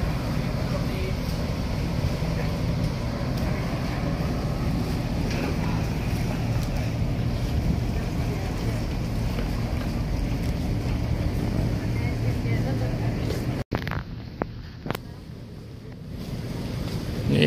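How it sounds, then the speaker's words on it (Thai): Steady rushing water and wind roar aboard a ferry crossing the Gulf of Thailand from Hua Hin to Pattaya, loud and continuous, then a sudden drop to quieter rumble near the end. "นี่ Royal 3อันนั้น Royal 4แสดงว่าเหมือนเขามีเหลือ4ลำ ตัวเรือก็สูงประมาณตึก2ชั้นครึ่งนะ"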